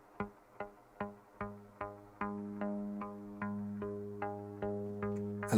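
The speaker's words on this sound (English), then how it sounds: "that pluck sound is in sync with the trigger" A Strymon Superkar+ module sounds a steady series of synth plucks through delay, the notes spaced about evenly. Their tails lengthen and pile up into a sustained chord as the echoes grow longer, with no voices present.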